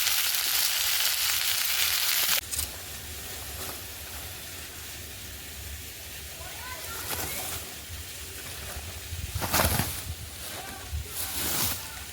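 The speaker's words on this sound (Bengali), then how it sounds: "তরকারিটা ভালো করে ভেজে ভেজে নিয়েছি" Vegetables for a curry fry in a pan, a loud steady sizzle at first that drops to a quieter crackle with occasional stirring bursts, under intermittent talk.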